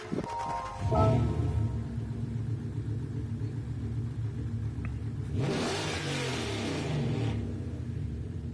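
A turbocharged car engine in Gran Turismo 7 revs hard, surging up and down in loud throaty bursts with a rising climb near the middle, steady and close with no talking.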